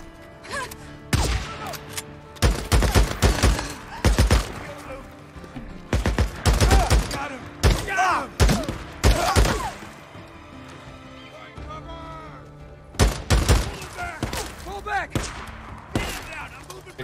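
Gunfire in the Days Gone video game, a burst of loud sharp shots in several clusters over roughly seventeen seconds, mixed with game noises and horse sounds.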